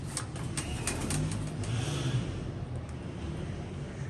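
Pigeons coo softly in a loft or coop, a faint, steady low murmur under a constant background hiss, with a few brief faint clicks early on.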